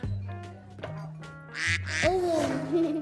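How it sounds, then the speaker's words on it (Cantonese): A flock of ducks quacks close by outdoors on a calm day, several overlapping nasal calls in quick succession, with a voice rising through the chatter. "喂，好多鴨啊！"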